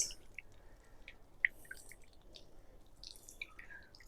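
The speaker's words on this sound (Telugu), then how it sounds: "వాటర్ తీసుకొని వాటర్ తీసుకొని ఇలా చల్లుతున్నాం" Water is sprinkled by hand onto the soil around a newly planted lemon tree, making faint, scattered drips and small splashes at irregular intervals over quiet outdoor background.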